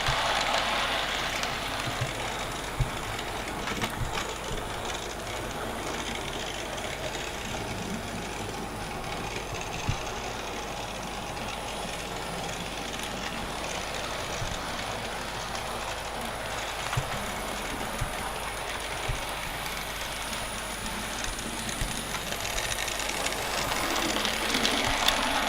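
A Hornby R2503 Southern M7 model train locomotive runs steadily on its track, giving a continuous close rumble and whir with faint rhythmic clicks of wheels over rail joints throughout.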